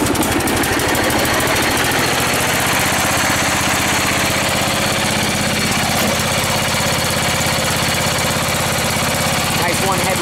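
A Craftsman racing lawn mower engine, cold-started, runs loud and close throughout, holding a rough, steady, chugging idle with no pauses.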